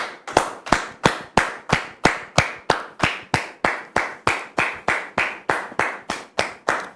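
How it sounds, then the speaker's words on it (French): Slow, steady rhythmic clapping welcomes a guest onto a studio talk show set, about twenty sharp claps spaced roughly evenly, fairly close and alone without talk. "On la reçoit sous vos applaudissements."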